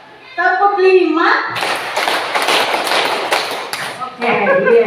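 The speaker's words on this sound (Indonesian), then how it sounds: "tepuk 5." A room of teachers and pupils claps in unison during a school class activity, a run of sharp, loud group claps between stretches of speech that come before and after.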